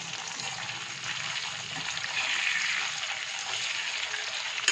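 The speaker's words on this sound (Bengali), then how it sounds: "এখন আরেক পিঠ ভেজে নেব" Chicken pieces frying on their second side in oil over a medium flame for a restaurant-style chilli chicken, giving a steady, close, moderately loud sizzle and crackle that runs throughout with no talk.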